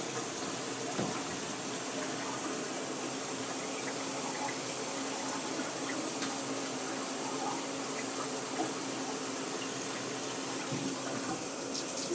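Water pours steadily from a tap, a constant hissing rush with faint splashing, unbroken throughout.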